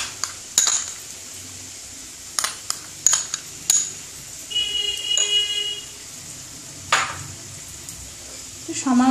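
A spoon clinks and scrapes against a bowl while thick yogurt is mixed with ground melon seed and cashew paste, a few sharp taps standing out over a quiet kitchen background.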